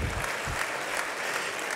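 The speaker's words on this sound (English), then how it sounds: "giving Cornelius Johnson a round of applause for that fantastic rendition" A brief burst of steady audience applause for a singer at an annual fellowship dinner, dense and even from start to finish with no talk over it.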